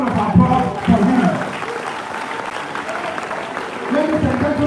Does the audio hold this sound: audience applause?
yes